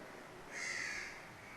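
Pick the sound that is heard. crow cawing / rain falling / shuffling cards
crow cawing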